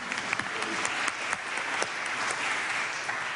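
A crowd applauds steadily, a dense wash of clapping with a few sharper individual claps standing out throughout.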